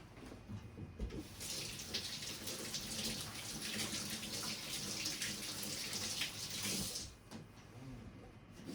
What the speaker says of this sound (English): Well, I'm gonna rinse these.